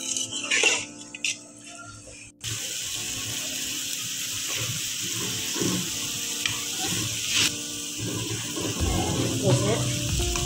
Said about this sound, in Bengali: আমি এটা দিয়ে 1 কাপ পানি দিলাম।